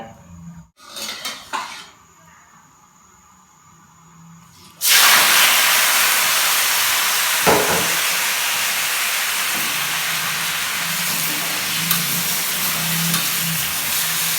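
A loud, steady sizzle and hiss of choy sum frying in a hot wok begins abruptly after a few clinks of utensils, continuing with occasional scraping.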